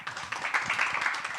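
An audience at a national reference standards briefing applauds to welcome a presenter to the podium, a brief dense burst of clapping heard alone.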